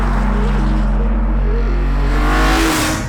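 BMW M3 engine with a loud, steady, close-up exhaust note that holds a low rumble and rises slightly in pitch toward the end, with no talking.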